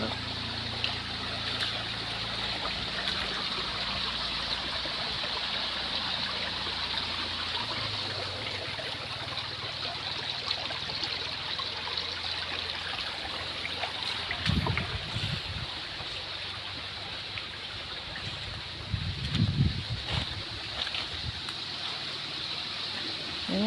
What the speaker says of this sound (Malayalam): ഇവിടെ ഒരു തോടുണ്ടാവും